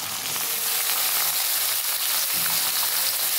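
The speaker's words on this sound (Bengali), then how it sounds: "সিদ্ধ করে রাখা ডুমুরগুলো এইভাবে দিয়ে একসাথে ভাজতে হবে বন্ধুরা আলুর সাথে।" Boiled figs and potatoes fry together in a pan, giving a steady, close, bright sizzle that stays loud throughout, with faint stirring scrapes underneath and no voice.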